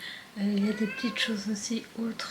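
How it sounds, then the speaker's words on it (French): A house cat meows several times in a drawn-out, tonal way, close by and fairly loud, interleaved with someone speaking French over it. "excusez-moi pour le chat qui miaule"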